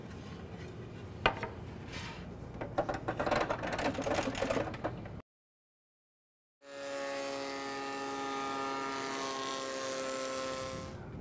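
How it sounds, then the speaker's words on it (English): A thickness planer takes a pass on a board, first a rattling, clattering run of the cut, then a gap of silence, then a steady humming motor drone with a strong pitched whine, close and without speech. "Now all I have to do is make another pass or two through the planer to bring it to the thickness I want,"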